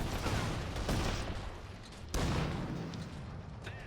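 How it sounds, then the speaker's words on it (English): A field cannon fires in the World War I–style strategy game Iron Harvest, giving two dull booms about a second apart. They sit within a dense, rumbling wash of battle noise. "That's a field cannon up there."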